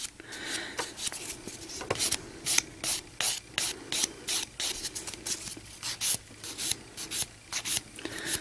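A nail file rasps over sculpting gel nails in quick, steady back-and-forth strokes, close and dry, with no talk.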